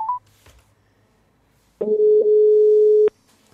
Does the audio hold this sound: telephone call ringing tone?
yes